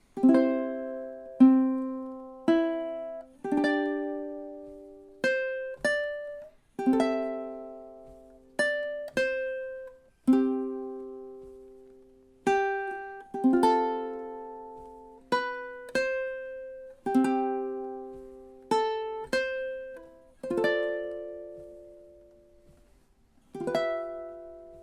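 Solo ukulele plays the outro of a song, measures 33 to the end, as a run of plucked notes and strummed chords that ring out and decay, steady and close with no voices.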